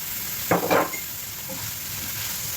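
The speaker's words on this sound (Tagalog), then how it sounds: "Ayan, syempre ilagay natin yung meatballs." Homemade meatballs dropped into a hot pan for pancit canton, a couple of brief close thuds and a sputter over a steady background sizzle.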